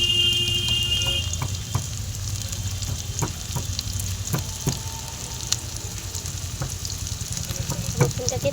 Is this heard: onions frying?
yes